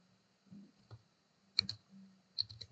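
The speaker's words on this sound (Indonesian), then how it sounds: "Lalu kita ketik admin" A handful of keystrokes on a computer keyboard as the word admin is typed into a Windows 11 installer field, sparse, close and crisp clicks in a quiet room without talk.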